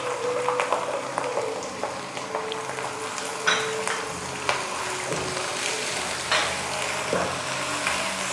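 Onions fry in a pan as ginger-garlic paste and green onions go in, for potato-stuffed capsicum: a steady close sizzle with scraping stirs and occasional light clinks of a utensil against the pan.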